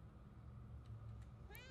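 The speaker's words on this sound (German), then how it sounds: "Miau." A cat meows once inside the video game Murdered: Soul Suspect, a short, fairly clear call near the end that rises over a low steady background hum.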